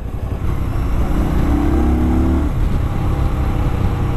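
A 2018 Indian Scout Bobber motorcycle pulls away in sixth gear, its steady engine drone rising in pitch for about a second before settling, heard close under continuous wind rush from riding.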